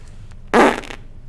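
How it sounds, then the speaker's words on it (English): A single short, loud fart, lasting about half a second, close up against a faint background hum. "This is for you fart enjoyers."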